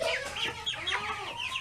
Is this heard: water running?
no